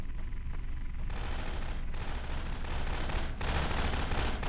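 Rapid bursts of gunfire from Half-Life 2 combat crackle continuously at full loudness, a dense, sustained volley with no voice over it.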